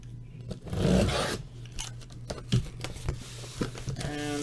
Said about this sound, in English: So we can cut the other side.